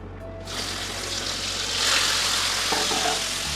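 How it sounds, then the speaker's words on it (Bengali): Chhena (cottage cheese) roasts in a hot pan, a continuous close sizzle and hiss that swells midway, with faint clinks of stirring and no talk. "ছানাটা সেঁকে নিই"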